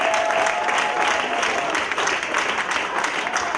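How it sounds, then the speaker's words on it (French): A church congregation bursts into loud, sustained applause and acclamation during a sermon, with many hands clapping and voices cheering together. It is continuous and close throughout. "Est-ce que quelqu'un peut donner une bonne acclamation pour la gloire de notre Dieu?"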